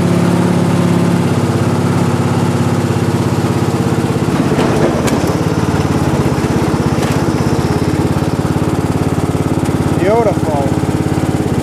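Craftsman lawn tractor engine running on a test drive after its first cold start of the year, a loud steady mower drone that shifts pitch midway, with a brief spoken word over it.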